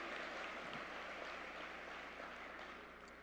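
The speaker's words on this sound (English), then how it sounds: "Round of applause for her, please." Faint, steady wash of audience applause at a talent showcase, heard from a distance and holding evenly throughout without any speech.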